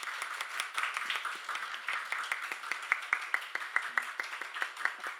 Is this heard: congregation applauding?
yes